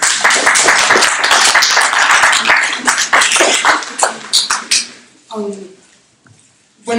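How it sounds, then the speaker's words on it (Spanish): An audience at an ecology conference in Mexico bursts into loud, dense applause that fades into scattered claps, followed by a speaker's voice near the end. "Por favor, un aplauso"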